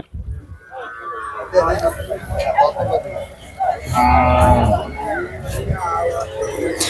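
Cattle at the Barkur cow market in Anthiyur, tethered separately with straw feed, give a few low moos amid market babble, with someone talking nearby over the livestock sounds.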